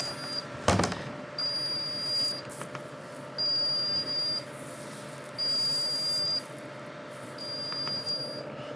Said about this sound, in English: Yeah, we'll let it beep.